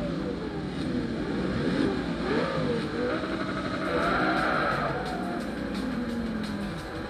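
Race car engines drone and rev together at the start of a race in Forza Motorsport 3, a dense, continuous motor roar with rising pitch sweeps, moderately loud, with someone talking over it.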